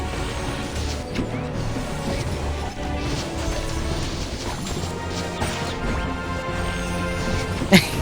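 In the video game Ragnarok Origin, a structure is battered during a guild league battle, with continuous clashing and crunching impacts in a busy mix and a sharp hit near the end.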